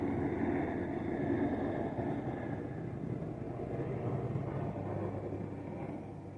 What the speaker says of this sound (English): loud ass military helicopters going by. Ooh, okay, another one.